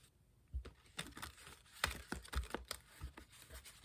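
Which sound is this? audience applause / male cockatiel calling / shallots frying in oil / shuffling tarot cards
shuffling tarot cards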